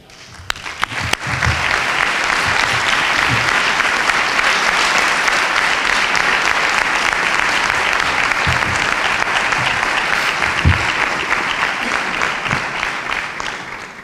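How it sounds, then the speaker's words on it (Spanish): Audience at a Holy Week proclamation in Tarifa breaking into sustained, dense applause that swells quickly after a few scattered first claps and holds steady for a long stretch before tapering slightly. "Solicito agradecimiento público y un aplauso para ellos"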